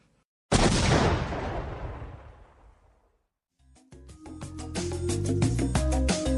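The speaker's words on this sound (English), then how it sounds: "Love hearing that explosion." A loud explosion effect bursts suddenly and rumbles down over a few seconds. After a brief silence a rapid, crackling barrage of blasts follows, like heavy gunfire.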